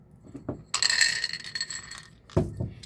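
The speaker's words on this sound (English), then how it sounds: "I'm gonna use my lovely random number generator. It looks like a 20-sided dice" A 20-sided die tumbles and clatters across a hard surface for about a second, a bright rattling burst that settles quickly, with faint low thumps just before and after.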